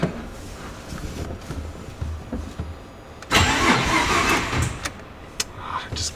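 A Mazda RX-7 engine cranks and catches with a sudden loud surge, runs roughly for about a second, then drops away and cuts out, leaving faint clicks.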